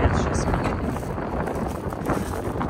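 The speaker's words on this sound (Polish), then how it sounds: "Znowu wiatrzysko. Właśnie wiatrzysko." Strong wind in an open field buffets the microphone in a steady, blustery roar, filling the clip with low rumbling gusts.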